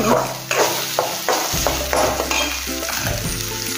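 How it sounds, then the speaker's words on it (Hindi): Masala frying in oil for bitter gourd dal, stirred with a spoon, a loud continuous sizzle with repeated scraping strokes against the pan, close up and without speech. "इसको 2-3 मिनट ऐसे हम चम्मच से हिलाते रहेंगे।"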